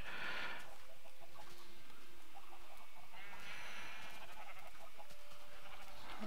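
Blocky Minecraft sheep give a few short bleats at moderate level, spaced apart against a faint steady game backdrop, with no voices.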